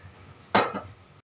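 Oil goes into a kadhai set on a gas stove, a single short metallic clink and splash rising briefly over a quiet kitchen background.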